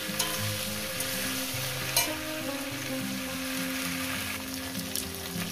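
Tender okra frying in a pan, a dense continuous sizzle with the scrape and clatter of stirring running throughout and one sharper knock near the middle.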